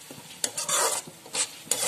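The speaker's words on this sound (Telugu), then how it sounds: "బాగా మిక్స్ చేసుకుందాం." Spice mixture with chili powder and garam masala stirred in a pan for veg Manchurian: close, scraping strokes of a spoon with a soft sizzle, three or four separate sweeps in quick succession, no talking.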